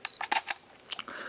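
A Canon EOS 800D camera fires its shutter, a quick series of crisp, close mechanical clicks and clacks heard alone, followed by a faint electronic whine.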